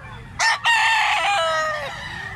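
A yellow-legged sweater-bloodline gamecock crows once, a loud close cock-a-doodle-doo with a brief break near the start and a long drawn-out tail, with no talk over it.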